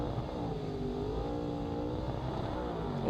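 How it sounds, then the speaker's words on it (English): Sportscar race engines revving together on the grid before the start of a Group S sportscar race at Winton, including a Porsche and a 5.7 Corvette, a loud continuous roar with rising and falling pitch. "Engines are revving."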